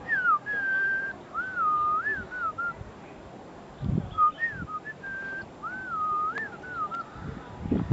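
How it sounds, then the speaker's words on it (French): A person whistles a teasing, playful tune in short rising and falling phrases, two separate bursts with a pause between, clear and close over faint background rustling and thumps. "Si je siffle, elle passe, je siffle, elle va comprendre que je suis en train de la taquiner."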